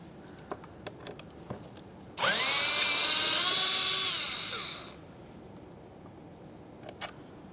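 A power tool whirs steadily for about three seconds, close and loud, while it backs out a 7mm window regulator mounting bolt on a 2015-2020 Ford F-150; faint clicks and taps come before and after.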